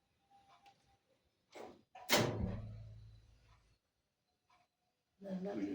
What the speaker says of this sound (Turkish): Kapıyı örtmem duymayacak mı?